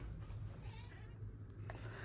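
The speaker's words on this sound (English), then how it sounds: "this video will be a nightmare for anyone who doesn't like cat noises." Cats meow faintly and briefly over a steady, loud low hum.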